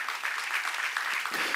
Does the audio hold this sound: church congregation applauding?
yes